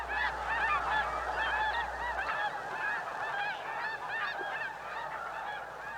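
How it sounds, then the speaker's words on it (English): A flock of snow geese honks continuously in flight, many overlapping calls forming a dense, steady chorus at moderate distance with no talk. "Those are snow geese."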